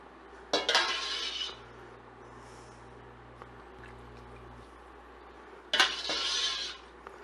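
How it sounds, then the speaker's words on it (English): Broth is ladled into a pot of French onion soup: two bursts of metal ladle clanking against the pot with sloshing liquid, separated by a quieter stretch with a low hum. "now we're gonna ladle in the remainder of our broth, our stock"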